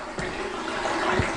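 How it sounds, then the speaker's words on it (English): A filter runs steadily in the water feature of a dome dwelling, giving a continuous close wash of splashing, trickling water with a couple of faint knocks. "We've just got a filter running at the minute just to try and keep the water as clean as possible"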